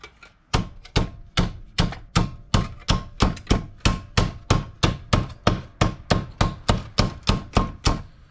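Steady, rapid hammer blows flattening a stainless steel washer, about three strikes per second, loud and close with no talking.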